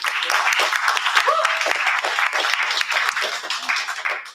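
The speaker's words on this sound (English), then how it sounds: "Can we practice clapping?" An open mic and slam audience practicing its clapping, a lively burst of applause with some whoops or voices mixed in, holding steady for several seconds before tapering off abruptly.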